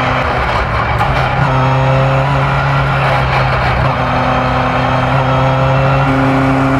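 A classic rear-wheel-drive Vauxhall restomod with a 300 hp naturally aspirated red top engine drones loudly from inside the cabin, holding a steady, intense engine note with mild surges throughout and no talking.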